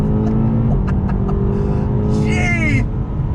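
A 2020 BMW M8 Competition pulls hard on throttle in second gear, a loud continuous engine roar rising in pitch, with a voice speaking briefly over it near the end.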